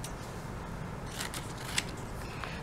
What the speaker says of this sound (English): So I'm gonna then cut them in strips.